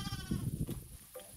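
A sheep eating chicken feed on a farm gives a short, close bleat, heard briefly alone.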